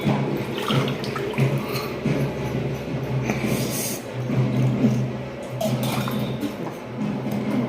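Water pours and splashes into a container, an uneven gushing and sloshing that swells and eases, with faint background movement.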